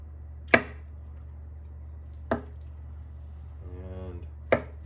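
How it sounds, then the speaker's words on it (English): A knife coarsely chopping boiled eggs on a board: three separate crisp, close chops spaced a second or two apart, with a brief soft squishy rustle between them and quiet otherwise. "So I'm just coarsely chopping these"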